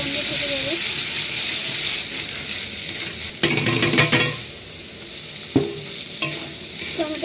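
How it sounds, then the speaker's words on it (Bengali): Ginger-garlic paste and onion sauté in a hot pan with a steady bright sizzle throughout, broken by a few louder scraping stirs of the spoon. "এখানে পেস্টটা ভালো করে কষিয়ে নেবো"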